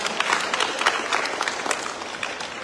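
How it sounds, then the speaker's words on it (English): An audience at a district story reading contest in a national library claps in a short burst of fairly close applause, with no talking. "A big round of applause for them."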